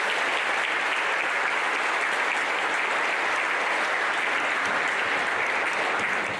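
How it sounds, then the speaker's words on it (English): A graduation ceremony audience applauds the 2024 graduating class with steady, dense clapping that holds at full strength throughout and tapers only slightly at the very end. "Let's give the 2024 a big round of applause."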